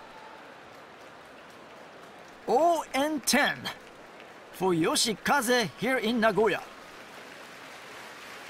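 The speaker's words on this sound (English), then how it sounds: "Still gets a round of applause for his great effort" A sumo audience in Nagoya keeps up a steady wash of applause, moderately loud and a little distant, under someone commentator who speaks in two stretches partway through.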